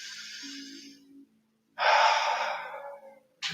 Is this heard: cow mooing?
no